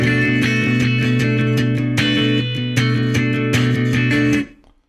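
Muddy, loose funk guitar chords strummed with a narrow picking motion in a steady rapid rhythm, close and loud, ending in a brief decay.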